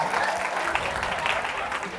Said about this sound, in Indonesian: tepuk tangan udah semua